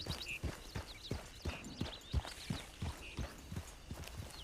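Tennessee Walker horse in a video game, hooves clip-clopping in a steady walking rhythm, soft and moderately near, with occasional faint creaks between the footfalls.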